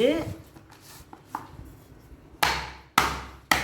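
Turkey berries (sundakkai) crushed under a cover in a kitchen: a few soft taps, then three sharp, evenly spaced pounding thuds close by.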